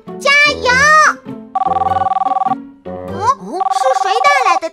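A cartoon telephone rings in two bursts of rapid electronic trilling, bright and close, between lively animated child-like voices.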